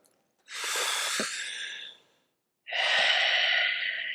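Two long, deep breaths during a yoga exercise for shin splints, each a loud, close, airy whoosh lasting over a second with a brief silent pause between them.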